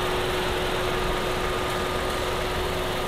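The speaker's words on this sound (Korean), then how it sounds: "엔진 소리도 일정하네요" A Kia All New Morning Deluxe small hatchback engine idles steadily with a constant, even hum, heard close up from the engine bay without any change in pace.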